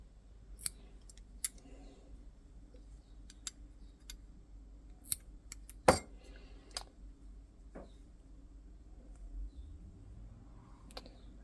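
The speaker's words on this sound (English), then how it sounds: "And then we trim the ends off." Scissors snip the cord ends of a Toki lashing, a few quiet, sharp cuts spaced out over a faint background hum.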